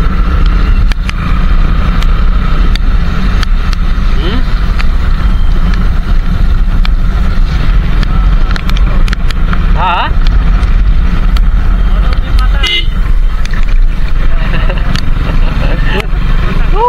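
Strong monsoon wind roars and buffets the microphone during a motorcycle ride, a loud, constant rushing drone under the engine's low rumble, with faint voices now and then.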